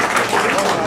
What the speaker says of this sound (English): Again, no applause, please.